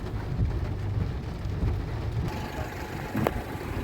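Steady rain falling with a dense, rumbling wash of low noise throughout, no voices, and a brief sharper splash near the end.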